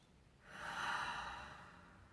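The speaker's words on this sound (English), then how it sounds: "Take a deep breath." A single slow, deep breath drawn in through the nose during a calm meditation, swelling and then fading, soft and close against a quiet room.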